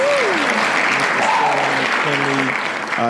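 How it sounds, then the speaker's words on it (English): An audience at a talk-show taping gives a round of applause, steady and dense through most of the stretch, with a voice speaking over it and tonal sounds mixed in. "All right, ladies and gentlemen, round of applause"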